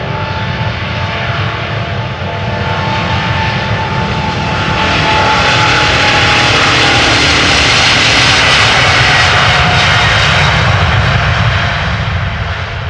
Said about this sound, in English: I think it's a growl you only hear from the engines on the older 200s.